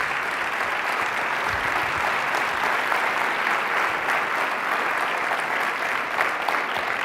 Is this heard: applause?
yes